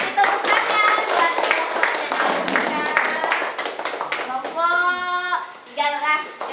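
Elementary classroom clapping for a group of pupils, a cluster of close, sharp hand claps mixed with children's voices and chatter, with a child's sustained vocal tone standing out near the end.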